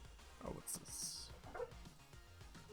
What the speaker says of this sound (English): Excuse the dog.